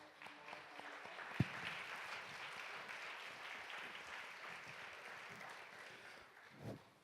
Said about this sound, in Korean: 우리 아버님도 박수로 환영하겠습니다